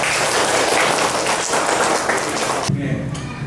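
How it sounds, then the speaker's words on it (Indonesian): An audience of children and adults in an Indonesian classroom gives a brisk round of applause. It is loud and dense for under three seconds, then cuts to quieter room sound with a faint voice. "Beri tepuk tangan dulu."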